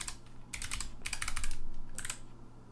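Someone types a username and password on a computer keyboard: close, clicky keystrokes in three quick bursts with short pauses between them.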